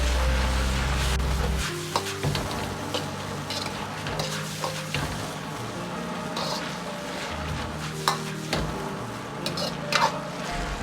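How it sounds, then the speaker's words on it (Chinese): Bean sprouts, tofu skin and chive pieces are tossed in a wok over high heat, with a continuous sizzle broken by scraping stirs and the occasional clank of the spatula against metal. "这时候开大火，快速翻炒几下"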